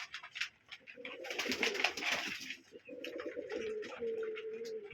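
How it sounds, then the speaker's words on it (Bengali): Pigeons coo in low, throaty, repeated calls close by while feeding at a loft, mixed with soft flapping and shuffling noises throughout. "এই যে প্রত্যেক কবুতরে খাইতে আছে"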